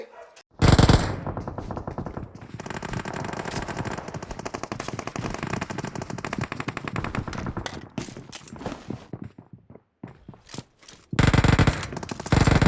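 An M249 light machine gun fires in the mobile battle royale game BGMI/PUBG Mobile. Loud, sustained automatic bursts run for long stretches, broken by brief gaps and then a final heavy burst.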